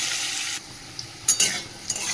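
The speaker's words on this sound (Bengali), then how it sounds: "চলো আলুটা ভাজা হচ্ছে" Potatoes fry in hot oil tempered with cumin and bay leaf, giving a steady bright hiss with a few clicks and scrapes of a utensil in the pan, close and without talk.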